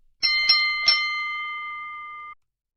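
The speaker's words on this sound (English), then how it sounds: "That's the bold enough bell." A radio sports show's bell effect strikes three quick times, then its bright tone rings on for about two seconds before cutting off cleanly, with no talk over it.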